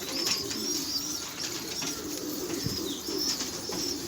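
Pigeons on a rooftop. Soft wing flaps and fluttering sound over a steady outdoor background, with faint chirps and coos. Nothing stands out strongly, and there is no talking.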